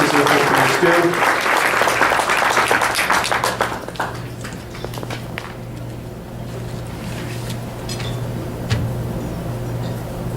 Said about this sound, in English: let's give a round of applause for everything that those organizations and companies do